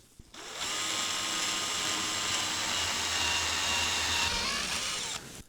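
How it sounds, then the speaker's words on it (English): A power drill whirs steadily for several seconds, starting abruptly and stopping cleanly, close and loud with no talking. "Let's drill this first hole here."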